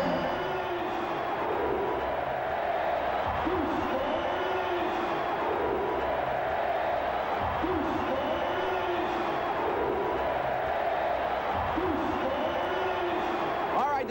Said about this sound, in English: All right, this crowd is rocking.